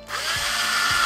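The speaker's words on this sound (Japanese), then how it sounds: "まずは木工ドリルの5ミリで穴を" A power drill with a 5 mm wood bit bores into wood for a handmade fishing lure, steady high whine, close and loud, its pitch rising slightly as the bit cuts through.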